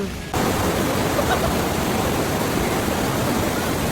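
Strong, fast river current at Daranak Falls roars as a steady, loud broadband rush that starts abruptly and continues unbroken, with no voices over it.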